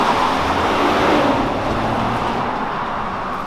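A 2021 Kia Cadenza executive sedan cruising through a tunnel at night gives a steady, enclosed rumble of engine and road noise, loud and continuous with no voices.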